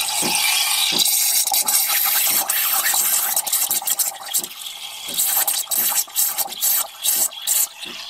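Espresso machine pouring a small coffee for a cappuccino inside a bus, heard as a close, steady hissing, gurgling stream with brief dips and sputters toward the end.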